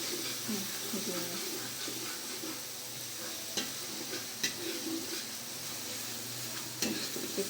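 A spice paste with lemongrass and galangal sizzles steadily in a pan while being stirred, with occasional scraping knocks from the utensil under a continuous frying hiss.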